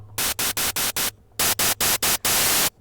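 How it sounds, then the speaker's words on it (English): Bursts of bright white noise from a Serum 2 synthesizer, chopped into a rhythmic pattern of short blasts ending with one longer burst, loud and close. "We're going to do a bright white noise."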